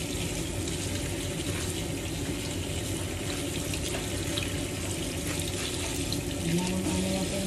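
A kitchen tap runs steadily while spinach is washed under it, a constant close splashing hiss of water into the sink with small shifts as the leaves are handled.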